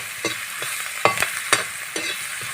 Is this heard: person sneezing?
no